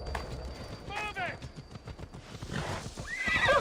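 Horses neigh and hooves clop in the Assassin's Creed Odyssey video game, as mounted guards approach: a rising whinny and another cry over busy, quieter hoofbeats and game sound.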